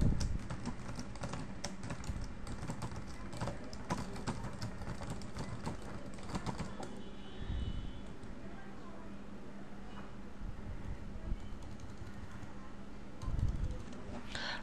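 Typing on a computer keyboard while filling in a freelancer profile, a steady run of quick, light key clicks close by, with a voice talking over much of it.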